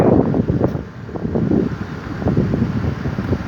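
Blizzard wind blowing snow outdoors in Kryvyi Rih in December at around minus five, a steady broadband roar of gusting wind buffeting the microphone, loud and continuous throughout with no voices.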